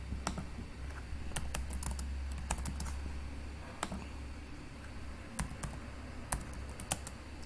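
Quiet computer keyboard typing: irregular light key clicks, some clustered in quick runs, over a low steady hum, with no talking.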